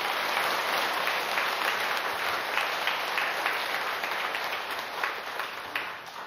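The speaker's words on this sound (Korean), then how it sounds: "박수 한번 쳐줍시다." An audience at a lecture claps together in sustained applause, a dense even wash of many hands that thins slightly toward the end, with no speech.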